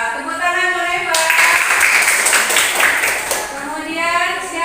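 A classroom audience claps together in a broad burst of applause lasting a couple of seconds, close and loud, with a teacher's voice before and after.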